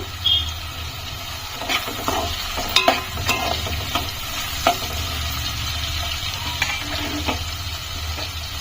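A dried fish tomato curry base with turmeric fries in a pan with a steady soft sizzle, while a spoon scrapes and clinks against the pan in irregular strokes throughout.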